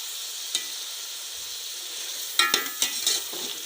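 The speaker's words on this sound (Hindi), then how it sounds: "इन तमाम मसालों को हम अच्छे से भून लेते हैं ताकि मसाले जले ना।" Black pepper, cumin and other whole spices roast with salt in a pan over low heat, giving a soft steady sizzle with a few sharper stirring scrapes and rattles toward the end, close by and with no talking.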